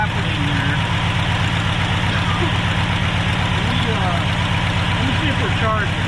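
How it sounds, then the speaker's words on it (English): A 1968 Ford XL engine idles steadily and close, its rough, even rumble carrying a faint recurring squawk that may come from the water pump, along with light tapping. "That may be the water pump making that squawk."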